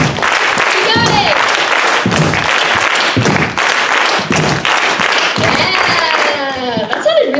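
Audience stamping feet and clapping hands in rhythm at a Rhythms of Resistance session with La Mezcla at CSU Monterey Bay, Seaside, CA: a repeating stamp-clap-clap pattern from a crowd, loud and continuous, with voices mixed in.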